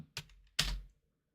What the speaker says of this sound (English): you just silently heard me tapping keys